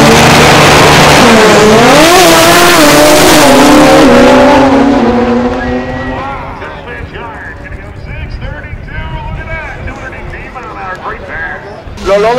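A rotary-engine drag racing car makes a pass at a drag strip in Orlando, its engine screaming and rising in pitch before fading into the distance, with a commentator talking loudly over it.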